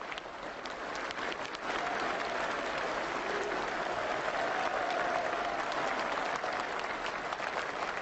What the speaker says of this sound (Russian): Бурными, долго не смолкающими аплодисментами приветствуют москвичи и гости столицы